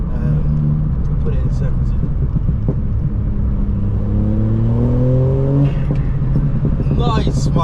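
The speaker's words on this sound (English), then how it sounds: "Listen, I like that turbo spool as well." A VW Up GTI's engine revs and climbs with turbo spool whine, heard from inside the car under constant road rumble while people talk over it.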